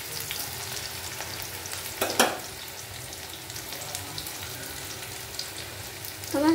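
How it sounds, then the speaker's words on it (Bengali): Onions fry in a pan on a gas stove with a continuous, moderately loud sizzle, broken by a brief utensil clatter midway and another at the end. "গ্যাসটাকে বাড়িয়ে দিলাম। পেঁয়াজটা ভেজে নিই।"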